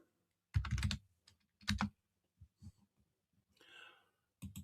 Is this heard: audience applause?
no